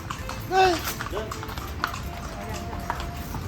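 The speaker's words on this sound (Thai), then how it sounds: "เราจะมานั่งรถม้านะคะ" Horse hooves clip-clop from a horse-drawn carriage ride in Lampang, Thailand, soft taps under steady street noise, with people talking in the background.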